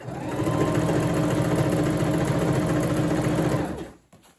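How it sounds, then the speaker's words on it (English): Sewing machine running a zigzag stitch along denim work pants, a fast steady mechanical chatter close by for about four seconds before it stops abruptly. "I'm going to use a zigzag stitch"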